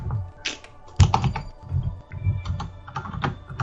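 Clicky strokes from a mechanical computer keyboard sitting under a foot from the microphone, close and fairly loud, arriving in uneven bursts with a heavier thunk near the middle and a soft low hum beneath.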